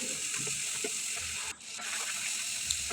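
Noodle spice mix frying with sliced tomato and mixed vegetables in a pan gives a steady, close sizzling hiss that runs almost continuously, with a brief dip partway through.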